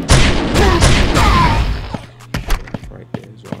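A projectile explosion in a retro boomer-shooter FPS game: a loud burst of boom and debris for about two seconds, then scattered sharp thuds and impacts fading out.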